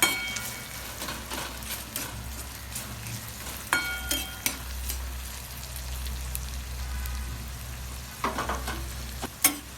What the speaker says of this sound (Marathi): मिरच्याच्या थोड्या फ्राय होऊ द्यायच्या